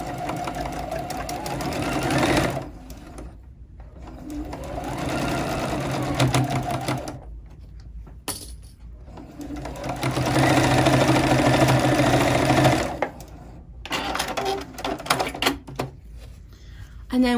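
A sewing machine stitches a fabric tray seam in several rapid, whirring bursts with brief pauses between runs, close and fairly loud, while a person talks intermittently.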